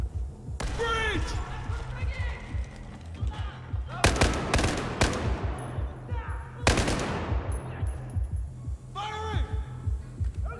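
Battlefield 4 combat, loud close bursts of automatic gunfire and heavy shots punctuating a rumbling battle backdrop, with people talking throughout.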